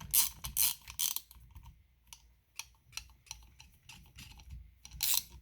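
Ratchet tightening small bolts into an aluminium part of a McCulloch Super Pro 81 82cc chainsaw engine, heard as scattered bursts of quick clicking with pauses in between, close and fairly quiet.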